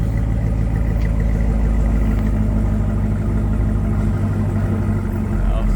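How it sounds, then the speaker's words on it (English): A 2023 Chevy Camaro ZL1 with a supercharged 6.2L engine and manual gearbox runs steadily at low speed, its deep, loud rumble continuous throughout without any talk. "the sound of the engine on the ZL1 Camaro."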